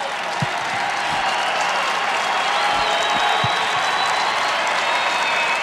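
A crowd at a 1991 Syracuse versus Rutgers college lacrosse game applauds in a steady, dense wash of clapping that fills the whole stretch, with a few low thumps scattered underneath.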